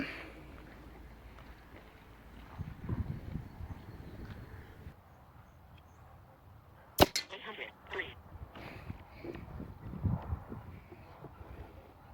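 An airgun firing a 21 grain H&N pellet outdoors: a single sharp, close crack, followed by faint rustling and low background noise.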